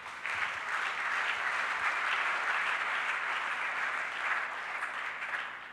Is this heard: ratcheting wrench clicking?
no